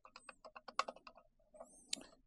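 Buttons on a DAD AX64 audio interface click in a quick irregular run of small, crisp presses close by, pausing briefly before a few more taps.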